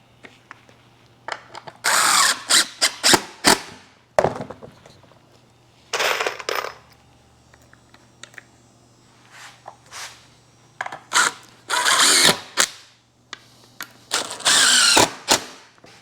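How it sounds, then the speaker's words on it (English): A power drill drives coated deck screws into treated lumber for a firewood bundler build, in repeated short whirring bursts of one to two seconds separated by quiet pauses, close and loud. "Let's go ahead and screw these in."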